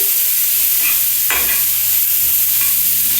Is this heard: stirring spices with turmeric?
yes